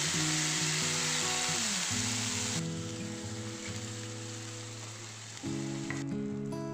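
Freshly ground coconut hits hot coconut oil with popped mustard seeds and curry leaves for a chutney, giving a broad, steady sizzle close up and alone, with a short shuffle of stirring near the end.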